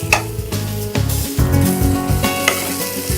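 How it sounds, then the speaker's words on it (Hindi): Minced meat fries with onions in a pan, a loud, close sizzle broken by repeated scraping stirs and knocks of a spoon against the pan. The cooking sounds come in uneven bursts with no talk. "और अच्छी तरह भूनिए प्याज के साथ।"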